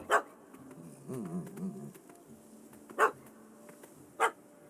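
A dog in The Witcher 3 gives a few sharp, separate barks spaced a second or more apart, with a soft whimpering yelp between them, fairly close over quiet game ambience.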